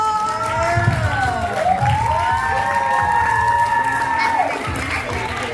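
Cheering crowd of a likay (Thai folk opera) troupe's audience at a company outing, loud continuous voices and shouts with rising whistle-like tones, no distinct clapping rhythm.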